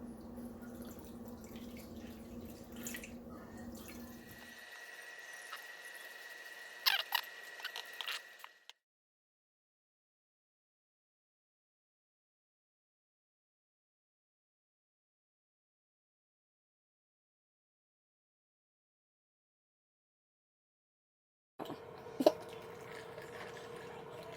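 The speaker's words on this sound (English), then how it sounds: "I'm gonna slowly strain this one into this liquid thing right here" Homemade Egyptian beer is strained slowly into a container, a wet pouring and dripping sound for several seconds, then a long silence before a brief return of liquid sounds near the end.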